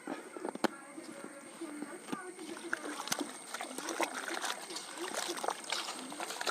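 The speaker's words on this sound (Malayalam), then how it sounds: "നമ്മൾ ചീരയിൽ നിന്ന് മഞ്ഞൾപ്പൊടി ഇട്ടിട്ട് വൃത്തിയായിട്ട് ഒരു 2-3 വെള്ളം കഴുകി എടുക്കണം" Spinach leaves washed by hand in water mixed with turmeric powder make repeated small splashes and sloshing, with a voice faintly in the background.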